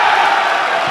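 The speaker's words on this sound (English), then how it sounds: "The crowd pops off" Spectators at a Super Smash Bros. Melee tournament erupt in a loud, dense roar of cheering and shouting, a short sustained burst filling the space.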